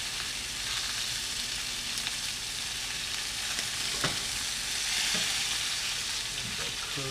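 Halibut fillets sear in a hot pan for a panko crust, giving a steady, close, continuous sizzle and crackle with a few soft clinks of a utensil, no voices.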